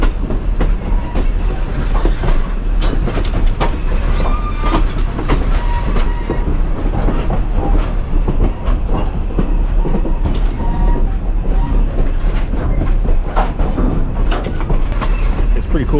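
A passenger excursion train rolls steadily along the tracks beside a river, a continuous loud rumble with rhythmic clicking of wheels over rail joints, heard from on board.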